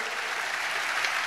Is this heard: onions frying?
no